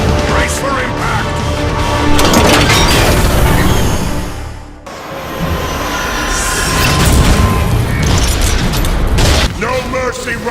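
Heavy booming blasts and rumbling impacts from Transformers Cybertron battle scenes, loud and dense throughout with a brief dip near the middle, metallic clanks layered over the roar.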